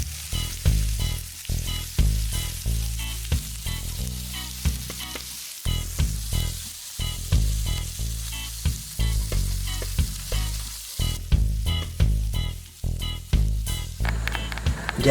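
Ceviche side ingredients fry in a hot pan, a loud close sizzle with irregular bursts and stirring scrapes running continuously throughout.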